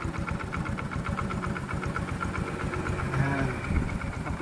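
Car engine idling steadily after a Magic Washer treatment, with a close, even rhythmic chug and a faint tapping texture; a voice talks briefly over it.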